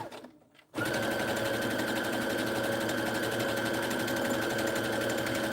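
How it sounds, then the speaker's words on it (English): A sewing machine top stitching a fabric popcorn pouch, starting after a brief quiet moment and then whirring steadily and loudly at close range without pause. "I'm going to go ahead and top stitch this"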